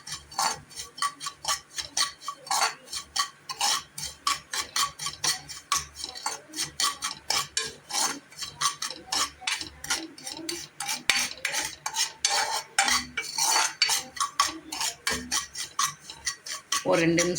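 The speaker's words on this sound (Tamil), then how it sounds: "இதில் நம்ம ரவையை போட்டு வறுக்கலாம்." Semolina (rava) being dry-roasted and stirred in a pan for ragi nut laddu, with a steady run of quick scraping, clinking strokes of the spoon against the metal, fairly close and continuous.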